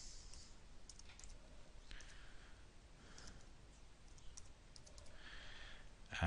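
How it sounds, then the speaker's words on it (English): Soft keyboard typing on a computer while entering a wireless network name, with sparse clicks in a few short bursts, faint and close in a quiet room. "We've got to type in the SSID"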